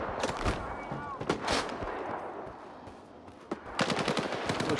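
Gunfire from both sides in the video game Stalker 2, scattered sharp shots and short bursts at varying distances over a steady game ambience, with no speech.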